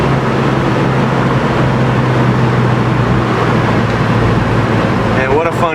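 A dark blue 1969 Chevelle SS cruising down the road, its engine giving a steady low rumble with constant road noise throughout, close and loud, with a brief higher whine near the end.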